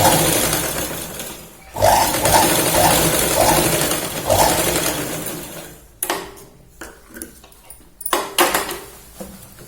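A sewing machine stitching a salwar runs in a steady whirring burst for several seconds, then stops; short separate clicks and thuds of handling the fabric and machine follow, close and alone.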